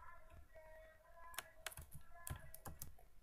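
Typing on a computer keyboard while entering text in a Word document, with quiet scattered key clicks that become sharper and more frequent in uneven bursts over a faint steady background hum.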